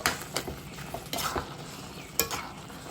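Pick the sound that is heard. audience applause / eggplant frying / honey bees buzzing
eggplant frying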